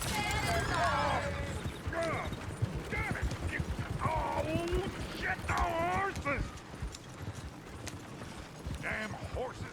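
Several horses whinny and neigh in shrill bursts over clopping hooves and clatter, with people talking beneath, in the video game Red Dead Redemption.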